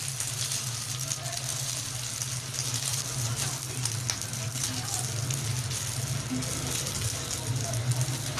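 Shami patty for a shami anda burger frying in a pan, a steady loud sizzle with crackling oil running continuously throughout, with a voice speaking over it.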